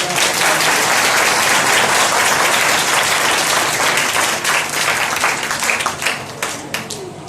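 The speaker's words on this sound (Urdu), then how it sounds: "ایک دفعہ ساری تالیاں" A congregation at a Sunday church service in Sargodha breaks into loud, sustained applause that fills the room, thinning toward the end into scattered individual claps.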